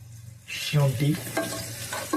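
Ginger frying in hot oil while being stirred in a pan, a loud crackling sizzle that swells after a quiet start, with scraping stirs and clatter from the spatula, close by and with no talk.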